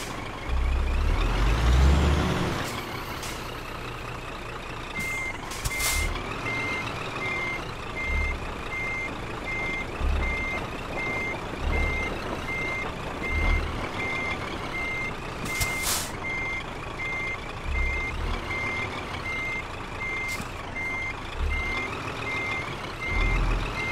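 Steady reversing beeps from a truck backing a trailer into a parking spot in Euro Truck Simulator 2, repeating evenly throughout over the low engine rumble, with occasional air-brake hisses.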